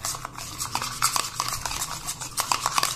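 A utensil stirs a homemade hair oil mix of coconut oil, lemon and shampoo in a small bowl, giving close, repeated scraping and clinking strokes in an uneven rhythm with no talking.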